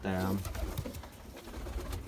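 Fantail pigeons coo in a low, throaty burst at the start, close by, followed by softer bird sounds and background noise.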